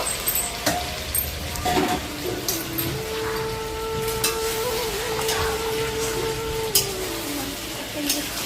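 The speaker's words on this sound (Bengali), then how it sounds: "ভাজা আলুগুলো ওর মধ্যে দিয়ে ভালোভাবে নাড়াচাড়া করে নেব" Fried potatoes stirred into cooked, browned meat in a pan give a steady sizzle and scraping stir throughout, with a few louder clatters of the spoon against the pan, heard close.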